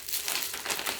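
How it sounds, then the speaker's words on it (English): A plastic bag crinkles and rustles steadily as it is squeezed into a backpack, with close, crisp crackling textures and no voices. "when you squeeze this plastic bag into your backpack, maybe you squeeze this"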